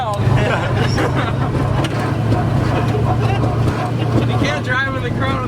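An LS V8 swapped into a BMW runs with a steady, throbbing low idle rumble, close by, while people talk over it outdoors.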